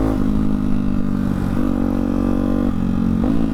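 A Hyper 698 motorcycle fitted with an S1 exhaust runs close by, its single-cylinder engine throbbing loudly with brief dips and blips in pitch, no talking over it.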